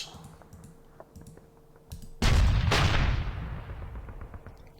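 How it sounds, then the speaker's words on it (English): Heavy siege guns fire in the wargame Panzer Campaigns Bulge 44, a loud low boom bursting in after scattered soft mouse clicks and rolling away into a long fading rumble. "Big ass siege guns."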